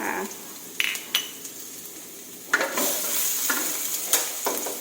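Garlic stir-fried in a pan for rad na with wide rice noodles and minced pork gives a quiet sizzle that swells midway, with a few clinks and scrapes of a utensil against the pan.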